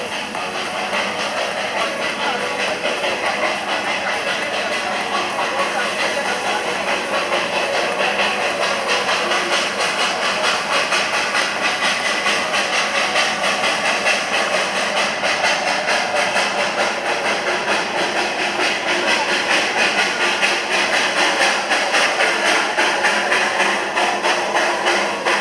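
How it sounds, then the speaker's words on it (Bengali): A coal-fired steam heritage toy train engine of the Darjeeling Himalayan Railway near Sittong, giving a steady, loud rumble and hiss that holds unbroken throughout. "টয় ট্রেনটা আসছে, ধুয়ো দেখা যাচ্ছে, আওয়াজও শোনা যাচ্ছে।"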